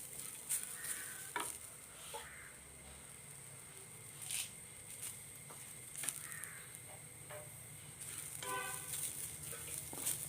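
Grated coconut is stirred and roasted in a pan, with quiet scraping strokes at irregular intervals over a faint background hiss. Distant crow caws are heard now and then.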